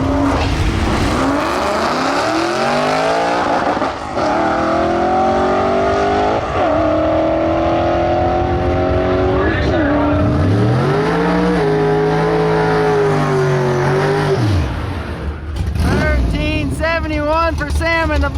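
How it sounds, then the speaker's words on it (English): Loud engine of a bone stock four-wheel-drive Ford F-150 on a drag strip run, revving up through rising gear pulls with shift breaks, then easing off near the end as a voice cuts in. "For Sam in the bone stock F-150."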